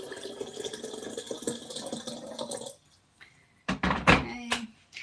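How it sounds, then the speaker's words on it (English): Water is tipped from a jug into a container, a continuous pouring splash for a few seconds that stops abruptly, followed by a few hollow knocks and clunks as the jug is set down. "so I just tipped some of my water into here"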